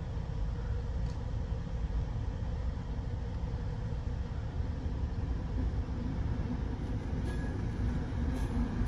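Two V180 diesel locomotives hauling a short ballast train through the Alpine region, a steady, loud rumble of wheels and engine that runs unbroken throughout with no voices.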